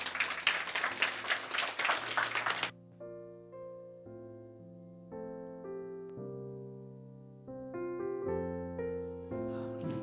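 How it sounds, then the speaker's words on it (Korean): Church congregation clapping during a baptism service fills the first few seconds, then stops abruptly as sustained organ or keyboard chords take over alone. "우리 박수로 환영하겠습니다."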